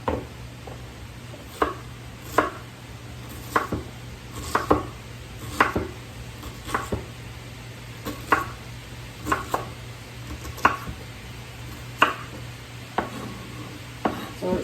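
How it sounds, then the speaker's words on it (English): A sharp knife dices and slices an onion on a board, giving a steady series of crisp chopping taps roughly every second over a low background hum. "I like a good sharp knife when I'm dicing and slicing."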